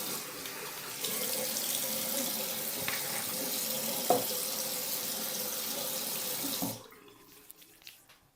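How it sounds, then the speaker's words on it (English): Bathroom tap water running steadily into a sink during face washing, a loud continuous rush that stops abruptly near the end, leaving a quiet room. "you wash your face until I say, je me lave le visage"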